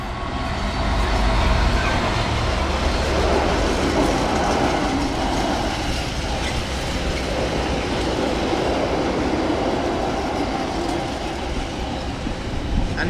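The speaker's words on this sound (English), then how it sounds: "there's the 11:47 Southwest train service to Bristol Temple Meads leaving" The 11:47 South Western service to Bristol Temple Meads pulls out of platform 1 at Bath Spa station with a loud, steady rumble and rolling wheel clatter that carries on throughout, and no voices.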